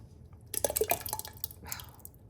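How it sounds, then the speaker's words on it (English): Thick tomato sauce pours and splashes into a pot of elk ragu, a wet, sloppy burst of glugs and spatter that starts abruptly and trails off over a couple of seconds, close and fairly quiet. "Okay, add all your tomato sauce."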